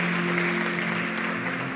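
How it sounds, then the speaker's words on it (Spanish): A church congregation applauds during a sermon, a sustained crowd of hands clapping at moderate distance, steady throughout, with a faint low hum running underneath. "un aplauso al Señor"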